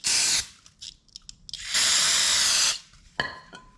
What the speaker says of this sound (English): Now I'm just gonna spray the O-ring.